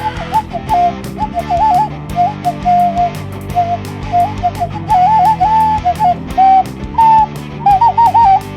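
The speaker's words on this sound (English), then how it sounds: "got my Costa Rican whistle. I got to play along." A Costa Rican whistle is blown in short wavering melodic phrases, repeated on and off over a steady musical backing.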